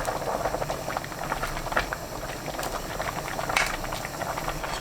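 Kimchi and bean sprout soup with aged kimchi, garlic and onion boiling in a pot over high heat, a steady soft bubbling and pattering throughout, fairly quiet and with no voices.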